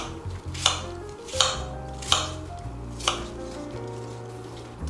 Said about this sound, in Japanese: いちょう切りにしていきます。